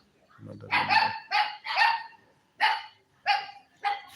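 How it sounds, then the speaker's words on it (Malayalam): Dogs bark close by in six short, loud bursts with brief pauses between them, beginning with a low rumbling growl. "പട്ടികൾ വന്ന് തന്നെ കേട്ടോ"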